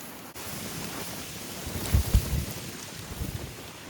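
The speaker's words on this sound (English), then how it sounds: "It's nice and windy" Steady wind buffets the microphone outdoors on a sunny day in brushy woods, a continuous broadband rush with a few stronger gusts midway, no talking.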